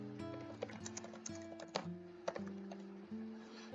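Typing on a computer keyboard while building a web page layout, a run of soft, close key clicks with a few sharper strikes over a steady background tone, no talk.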